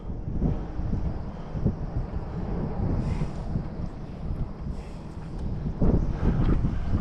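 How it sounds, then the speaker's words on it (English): Gusty wind buffets the microphone on a fishing boat in middle Florida, a steady low rumble with stronger surges partway through and near the end, no voices. "getting windy out here"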